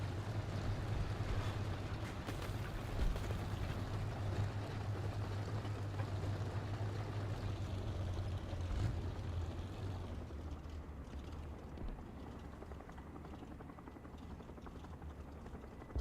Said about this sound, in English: It's not one helicopter, but freaking two.